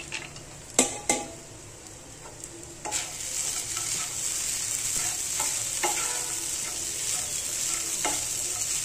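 Rice and peanuts roasting dry in a pan for khichdi, a steady bright hiss broken by a few scraping clinks of a spoon against the metal.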